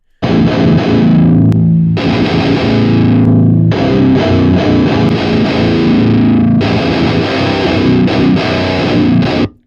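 Heavily distorted electric guitar plays thick, sustained chords in three loud phrases separated by brief gaps, with no voices.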